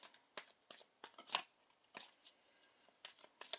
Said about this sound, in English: we're going to put all of our cards down first